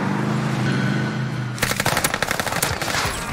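Gunfire in the video game Warzone, a loud rapid automatic burst that cuts in sharply after a dense wash of game noise.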